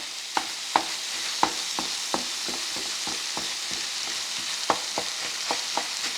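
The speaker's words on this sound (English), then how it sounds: "I'm getting some good crust right there on a lot of this. It's browning." Ground beef sizzles and fries in a pan, a steady loud hiss broken by a string of sharp scraping taps as a utensil chops and stirs the browning meat.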